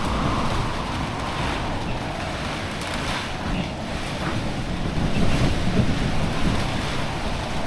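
Storm Eowyn's strong wind roars around a house and yard, a loud, steady broadband rush that swells into heavier gusts toward the end.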